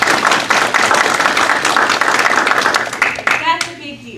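Audience applause in a large hall at a school district address, dense steady clapping filling the space, fading toward the end as a voice begins to speak.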